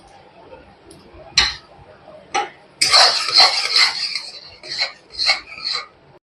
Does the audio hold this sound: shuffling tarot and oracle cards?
no